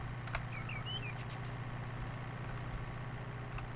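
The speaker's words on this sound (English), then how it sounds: "Oh, and I got the slow... I got the damn slow tractor." Slow tractor engine in Farming Simulator 19 drones steadily at a low pitch throughout, an even, unbroken hum with no speech over it.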